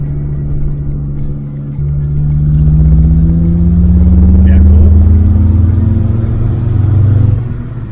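Supercharged BMW engine accelerating hard in third gear, a loud close rising drone with climbing engine tones that swell for several seconds before easing off.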